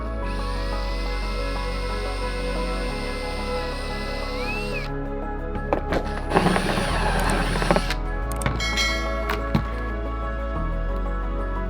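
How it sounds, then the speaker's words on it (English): A drill bores a hole through a car's hatch trim piece. Short whirring bursts rise over a quiet workshop background, with faint ratcheting clicks, and no voices. "I'm going to drill a hole in this much larger piece somewhere"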